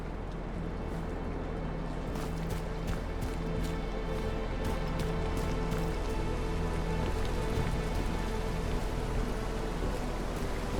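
Steady rain falls in The Caribou Trail video game, a dense, continuous patter on surfaces with scattered sharper drip ticks, filling the whole stretch without pause.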